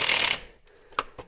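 A ratchet works loose rusty exhaust nuts on a tired Mazda MX-5, with a loud burst of whirring clicks at the start, then a few sharp, separate clicks after a short pause, close up.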